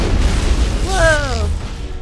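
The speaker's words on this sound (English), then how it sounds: "We just got grenaded, I think." A grenade blast in Mass Effect, one booming detonation with a ringing, wavering tail that fades over a second or two, heard over a low rumbling game background.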